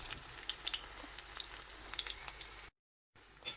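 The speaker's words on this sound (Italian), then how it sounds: "E ora lo lasciamo friggere." A kimchi pancake fries in a pan with a steady, close sizzle and scattered popping crackles, broken by a short gap of silence before the frying resumes.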